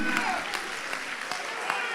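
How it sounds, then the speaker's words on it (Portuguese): A church congregation in São Gonçalo claps steadily in a dense, continuous patter, with voices mixed in underneath the applause. "Aplauda Ele, aplauda Ele, aplauda Ele."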